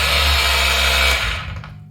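A polishing machine running at 4,500 RPM gives a loud, steady whirring drone that cuts out abruptly near the end and fades away.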